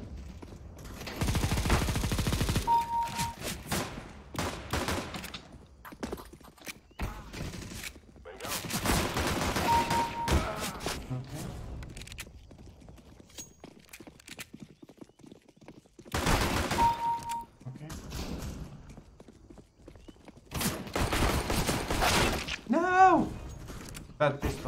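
Pistol gunfire in the game CS:GO during the Shattered Web operation: loud clusters of rapid shots in several separate bursts, with quieter gaps between them.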